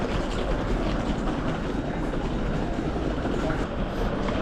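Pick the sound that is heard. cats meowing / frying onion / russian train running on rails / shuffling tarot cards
russian train running on rails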